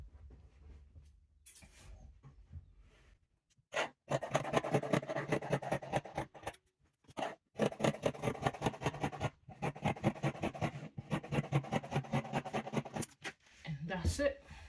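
Scissors cutting fabric for a pencil skirt cut on the fold, a long run of close, steady crunching snips in quick bursts with short pauses, faint handling and rustle at the start.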